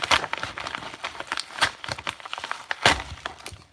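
An Amazon package being cut open, with quiet crinkling plastic and scratchy cutting strokes in irregular bursts, close and fairly soft, no talking.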